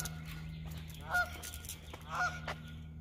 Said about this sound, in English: Ducks are saying goodbye to me.